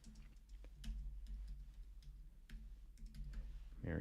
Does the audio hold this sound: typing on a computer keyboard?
yes